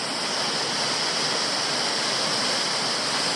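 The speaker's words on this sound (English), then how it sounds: "I've arrived at the first of the waterfalls along Toolona Creek. This is Triple Falls." Triple Falls on Toolona Creek pours in a dense, loud, unbroken rush of falling water, heard close and alone with no voices.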